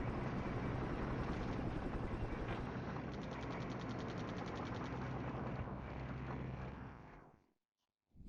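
A helicopter in the war game Flashpoint Campaigns: Southern Storm drones with a steady rotor thrum and mechanical whir for several seconds, then cuts off abruptly into silence, with no talk.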